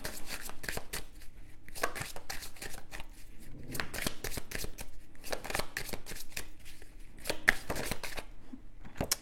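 Tarot cards being shuffled by hand give a steady run of crisp riffling and flicking bursts, close and fairly quiet, continuing throughout with no one talking.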